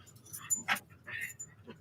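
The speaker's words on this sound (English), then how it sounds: "it is my dogs fighting each other at the moment" Dogs scuffling with each other in the background indoors, short yips, whimpers and panting bursts that come and go, faint and somewhat distant, with no talking.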